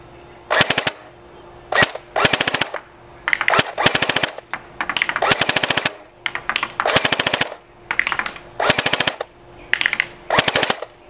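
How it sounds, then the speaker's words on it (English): Classic Army P90 Sportline airsoft gun with a standard spring setup firing BBs in repeated full-auto bursts, about a dozen rapid rattling strings separated by short pauses, loud and close with no talk. "But now we've got it wound back up, and I'm going to commence firing once again."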